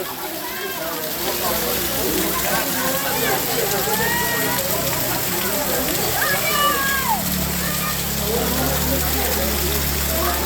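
Heavy rain pours steadily onto a street in Wankaner, a dense continuous hiss with splashing water throughout, a low engine rumble joining near the end.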